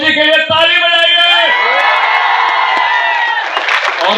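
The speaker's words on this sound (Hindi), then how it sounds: "रंजन भैया और तितली भौजी के लिए ताली बजाइए" A crowd at a film team's promotional event in Patna cheers and whoops loudly, with sustained shouted voices and some clapping mixed into the roar.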